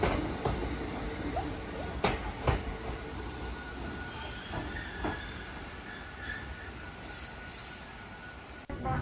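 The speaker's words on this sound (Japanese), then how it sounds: "いい冷房車が来ました。" A Hakone Tozan Railway air-conditioned train car rolls in with a steady rumble and faint wheel squeal, heard from a station platform amid outdoor background noise.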